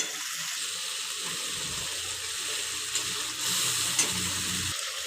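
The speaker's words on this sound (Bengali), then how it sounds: "মশলাটাকে ভালো করে কষিয়ে নেব।" Spice paste mixed with softened tomato fries in a pan in Bengali home cooking, a steady dense sizzle up close, with a brief louder burst of hiss near the end as it is stirred.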